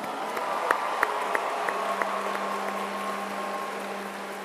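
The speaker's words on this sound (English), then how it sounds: "Let's give him one more round of applause." A hall audience applauds a keynote speaker at a national student leadership conference opening ceremony, a steady wash of clapping with a few sharper claps standing out, then a faint sustained tone underneath.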